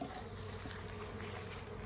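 Honey bee swarm buzzing densely and continuously on a farm, a close, steady hum filling the whole moment with no talk over it.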